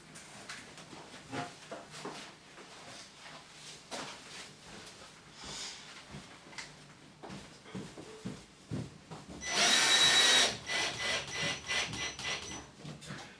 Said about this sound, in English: you can then put a screw in